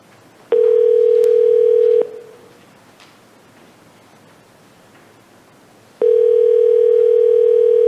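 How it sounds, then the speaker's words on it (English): A telephone dial tone sounds loud and steady for about a second and a half while a call is being placed, drops to faint line hiss, then returns near the end. "So is this Arden we're calling now?"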